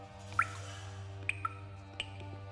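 Water dripping in a damp cave in a video game, with a few distinct, sparse plinks over a low steady background hum.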